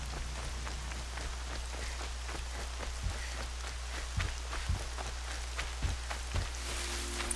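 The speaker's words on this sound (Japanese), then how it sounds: "雪山で雨か" Steady rain pattering on the ground of a snowy mountain in Horizon Zero Dawn, a continuous dense hiss of drops with occasional heavier splats and a low constant rumble beneath, no talk.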